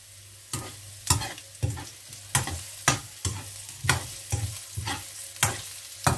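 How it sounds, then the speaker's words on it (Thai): Rice being stir-fried for Thai chicken rice, a spatula scraping the pan in a steady run of about a dozen sharp, close strokes over a low sizzle, with no talk. "จะทำการผัดต่อไปเรื่อยๆจ้ะ"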